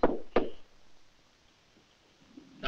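A door is knocked on with two sharp, loud raps close together, followed by quiet room tone and a third knock at the end, in an Egyptian comedy scene.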